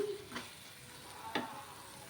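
Lentil filling for bobbatlu being stirred with ghee in a hot pan: a soft steady sizzle with two brief scraping strokes of the spoon, close and fairly quiet, no voices.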